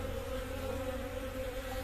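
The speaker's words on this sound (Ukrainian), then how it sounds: "бджола все ж таки потроху полетіла" A steady buzzing drone of a flying honey bee at an apiary, continuous and close, over a low background rumble.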